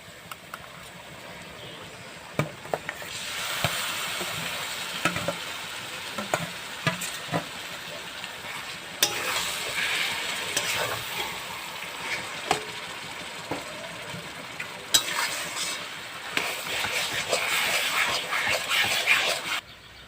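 Onion and eggplant fry in a pan with steady sizzling and hiss, broken by repeated scraping and knocking of a spatula as the mixture is stirred, close and moderately quiet.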